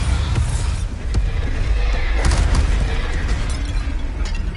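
A Bombarda spell blasts in the Hogwarts Legacy video game, giving a dense, rumbling roar with a few sharper bursts cutting through, loud and continuous throughout.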